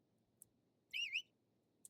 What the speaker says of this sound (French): Bon, il siffle.